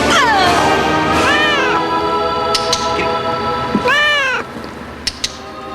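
A cat from the Disney movie Hocus Pocus meows loudly and close up, two long drawn-out yowls separated by a pause, followed by a few faint clicks.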